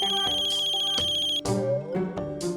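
A phone ringtone plays a repeating melodic tone pattern for an incoming call, loud and continuous, with brief bursts of background noise near the end and no speech.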